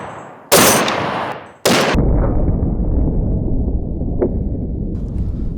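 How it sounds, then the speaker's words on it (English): A .50 caliber rifle fires at a watermelon outdoors: two thunderous, close blasts about a second apart, each followed by a long rolling echo that slowly fades. "we're going to see how the 50 does shooting the watermelon"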